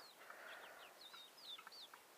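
Clucking from a hen kept with guinea fowl and turkeys, a few short, fairly faint calls over steady outdoor background noise, with no voices.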